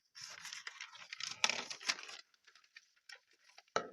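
Material for a handmade gift is being cut, giving a run of close crisp snips and tearing crackles, dense at first and then thinning to scattered clicks, ending in a sharp snap.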